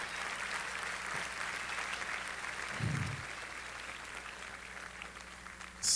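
A crowd at a Senate victory speech applauds in a steady, moderate wash of clapping, with a low thump partway through and no talk over it.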